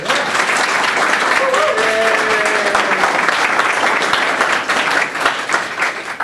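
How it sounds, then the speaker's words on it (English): A round of applause fills a meetup room at a game developers conference, steady dense clapping from a crowd lasting several seconds, with a few voices mixed in. "Can we have one more round of applause?"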